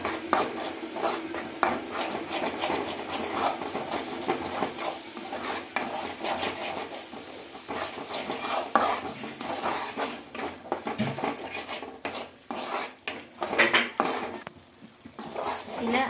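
Freshly pounded ginger garlic paste frying in a pan for chicken maharani, a steady dense sizzle with spatula and pan clinks throughout, close and continuous.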